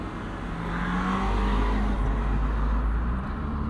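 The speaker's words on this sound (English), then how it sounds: "Let's hear this JCW convertible." A 2025 Mini Cooper JCW convertible engine hums steadily at idle, then rises into a smooth rev that holds before easing off, with no talking.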